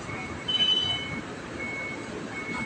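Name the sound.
dump truck reversing at port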